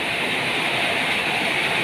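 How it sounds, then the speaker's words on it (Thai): Steady, dense hiss of heavy rain pouring down at night, loud and even throughout with no voices. "ฝนตกแรงมากนะครับ"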